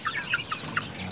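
Chickens on a farm cluck and chatter in several quick, close calls over steady background noise, with no talking.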